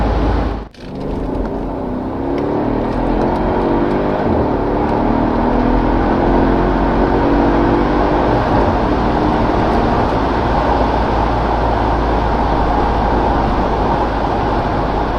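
A 2013 Mercedes S63 AMG W221 Performance Pack engine roars steadily and builds speed while accelerating, with a brief thump near the start, running continuously with no voices.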